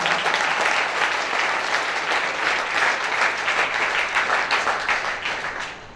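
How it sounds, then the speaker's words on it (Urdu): An audience at a quiz competition breaks into sustained, dense applause to welcome three teams, with the loud clapping holding steady before tapering off at the end. "میں چاہتا ہوں کہ ان 3 گروپ کا استقبال کیجیے زوردار تالیوں کے ساتھ"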